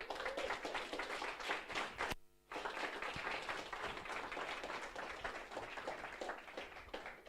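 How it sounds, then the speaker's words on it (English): Audience clapping for mentors at a product event, steady dense applause from a room of people with a brief lull partway through before the clapping resumes and carries on. "can we give them a round of applause?"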